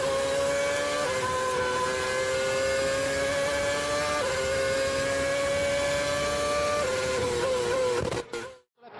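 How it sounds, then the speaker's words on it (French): Formula 1 cars at the start of the Malaysian Grand Prix, a continuous loud high-pitched engine whine with rising pitch sweeps as gears change, sustained throughout before cutting off abruptly near the end. "à l'extinction des feux, ce sera le départ de ce Grand Prix de Malaisie"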